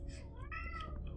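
A cat meows close by, a drawn-out rising and falling call over a low background hum, with a faint second sound near the end.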